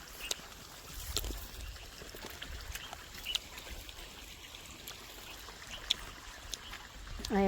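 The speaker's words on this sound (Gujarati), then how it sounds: "પાણી જો ધોરિયામાં જાય છે." Irrigation water runs along a field channel on a village farm, a faint, steady trickle and rush with a few soft clicks and knocks over quiet outdoor ambience.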